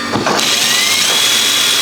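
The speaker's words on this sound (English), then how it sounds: "Can we do the drilling?" A power drill whirs close up in a pub, a brief burst followed by a steady high-pitched spinning drone that continues loudly to the end.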